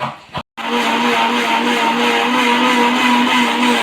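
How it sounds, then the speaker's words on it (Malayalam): A small piece of coconut is grated by machine for coconut milk for an Onam sadya stew: a steady, loud motor whine with a brief cut-out near the start, then continuous grinding with no talk. "ഈ തേങ്ങയൊന്ന് തിരുമ്മിയെടുക്കും"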